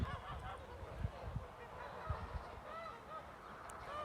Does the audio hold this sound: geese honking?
yes